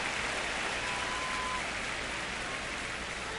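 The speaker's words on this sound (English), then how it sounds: "The rain is here, and it doesn't look like it's going away anytime soon." Rain falling during a rain-delayed Nationals baseball game, a steady, dense hiss of rainfall with no break, broad and even at moderate volume.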